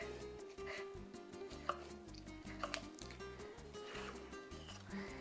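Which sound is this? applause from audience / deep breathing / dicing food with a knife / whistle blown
dicing food with a knife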